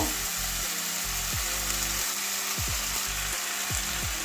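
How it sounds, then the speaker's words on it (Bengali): Spices sizzle steadily in a hot pan while being fried down for a Bengali soya chunk, potato and pointed gourd curry, with a continuous close hiss and a few short scraping stirs every second or so. "দু মিনিট ভালো করে কষিয়ে নেব"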